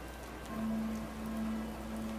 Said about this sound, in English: we're inside a building and it's raining